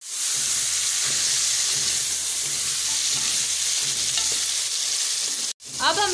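Sliced small tomatoes dropped into chicken frying for palak chicken curry, giving a loud, dense, continuous sizzle close up, with a brief dip near the end and then a few stirring clatters.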